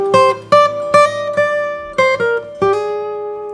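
Acoustic guitar picks out the main melody of a song, the A section: clear plucked notes in a steady phrase with sustained ringing tones, close and solo with no talking.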